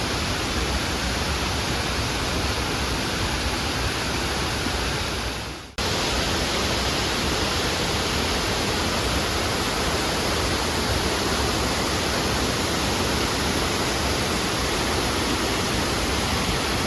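Curug Sikarim waterfall pours in a dense, steady broadband roar, loud and close, continuing unbroken apart from one brief dip partway through.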